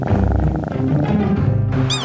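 A cat purrs steadily up close, a continuous low rumbling hum that stays loud throughout, ending with a brief higher squeak.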